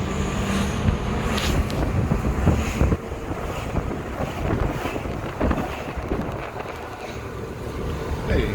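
Inside a 2008 Nova LFS city bus of the Montreal STM on route 201 in Pierrefonds, a continuous low rumble of the moving vehicle mixes with wind buffeting and rattles, steady throughout.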